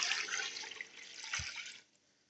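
Water is poured onto spiced chicken in a cooking pot, a steady close rush and splash lasting nearly two seconds before stopping, with a brief low thump midway.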